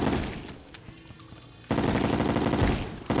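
Guns fire in the video game Terraria, with rapid bursts of gunfire that drop to a quieter stretch and then resume as a dense, loud fusillade.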